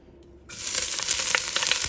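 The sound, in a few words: onions frying in olive oil in a Dutch oven pot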